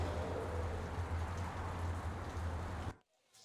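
Steady rain ambience in the Blade Runner video game, set in a dark, neon-lit futuristic Chinatown: a dense, even hiss with a low hum underneath, cutting off abruptly near the end.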